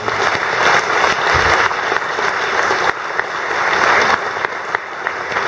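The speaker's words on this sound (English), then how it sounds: "please give a round of applause to our panel." Audience applause for the panel at a public discussion on transportation and bike lanes: a sustained, dense wash of clapping that swells and dips slightly over several seconds, with no talking over it.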